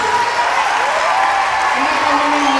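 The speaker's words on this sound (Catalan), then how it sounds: "Un aplaudiment molt fort per ells" Audience applause for the singers at the end of a Totoro musical, a steady wash of clapping at constant loudness with a few faint voices mixed in.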